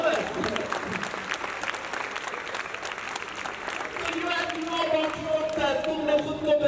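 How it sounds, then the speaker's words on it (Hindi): An audience claps for a speaker's Hindi talk, a dense, steady round of applause that carries on throughout, with a voice rising over it toward the end. "तालियां बजाओ, शाबाश"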